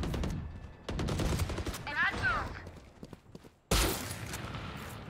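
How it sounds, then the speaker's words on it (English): Rapid bursts of gunfire from a shooter video game, dense clattering shots in quick succession, loud and close, pausing briefly then resuming, with game voice chatter mixed in. "the shooting noise is so nice"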